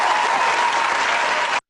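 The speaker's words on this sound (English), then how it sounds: "I'll get you some applause." Steady, dense applause from a crowd claps loudly for about a second and a half, then cuts off abruptly.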